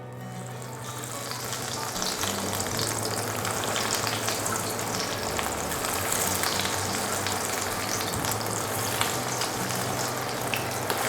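Fish for fish and chips fries in very hot oil, a continuous bubbling sizzle that swells in the first couple of seconds and then holds steady and close, with no voices.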